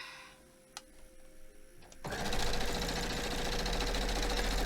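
After a couple of quiet clicks, a sewing machine starts up and runs at a steady, fast whirring rhythm, stitching a row of a quilt block loudly and close by.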